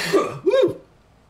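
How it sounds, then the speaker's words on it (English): A couple of short, rough coughs close up, followed by quiet. "Making me cough"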